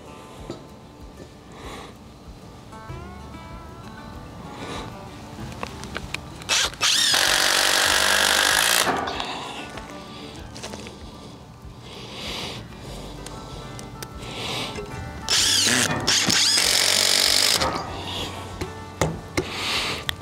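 A power drill drives screws into sawmill lumber for homemade laminated beams, with two loud sustained high-speed whirring runs over a steady background of workshop noise and small knocks.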